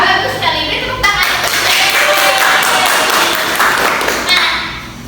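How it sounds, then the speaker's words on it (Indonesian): Schoolchildren in a primary-school civics lesson clap together in a loud, dense burst of applause lasting several seconds, close and continuous before tapering off. "beri tepuk tangan"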